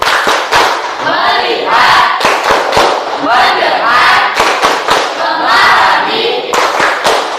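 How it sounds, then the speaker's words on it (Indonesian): A classroom group performs the "tepuk fokus" focus clap, loud sharp claps in a set rhythm alternating with the whole group chanting words together in unison, close and energetic. "Tepuk fokus."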